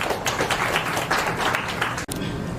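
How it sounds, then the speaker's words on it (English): An audience gives a round of applause for a keynote speaker at a university education event, steady close clapping filling the whole short span, with one brief dropout near the end. "Ladies and gentlemen, can you give a round of applause to him,"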